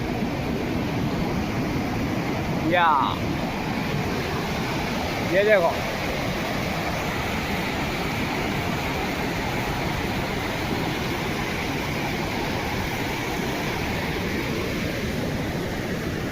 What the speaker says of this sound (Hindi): ऐसा पानी आ रहा भाई हमारे गांव में।